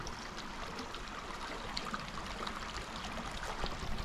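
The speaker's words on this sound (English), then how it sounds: "I'm just enjoying the sun and this little bit of Holcomb Creek here" Holcomb Creek, a small sunlit stream along the Pacific Crest Trail, trickles and burbles in a soft, steady wash, faint and close, with no voices.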